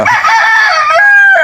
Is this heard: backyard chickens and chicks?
yes